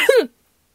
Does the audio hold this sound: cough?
yes